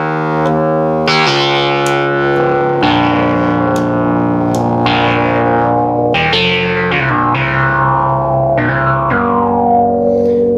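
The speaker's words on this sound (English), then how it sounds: "It's kind of a cool sound there when you add two Minimoogs together." Two vintage Minimoog analog synthesizers play together in a thick, biting lead line, sustained notes changing pitch in a steady melodic phrase with a gritty edge.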